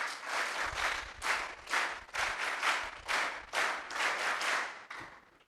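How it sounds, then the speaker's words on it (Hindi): An assembled group at a personality-development camp held at an ashram in Rojad claps together in rhythmic bursts, several swelling waves of hand claps rising and falling one after another, close and fairly loud. "एक बार आप सभी मिलकर वीरताली इन सभी के लिए बजाएंगे।"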